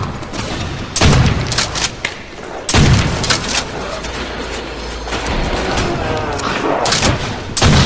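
Trench gun shotgun blasts in World at War Zombies, with loud sharp broadband bursts near 1 and 2.7 seconds standing out against a dense backdrop of game gunfire and mechanical clatter.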